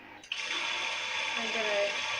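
A Bosch washing machine fills with water during its rinse cycle, giving a steady, close rush of inflowing water that starts abruptly after a brief click and runs on without pause.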